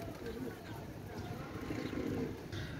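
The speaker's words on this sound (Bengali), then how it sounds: "এক জোড়া ওমান টেডি কবুতর" A pair of Oman Teddy pigeons coo softly and low, nearby, in short repeated calls, with voices talking over them.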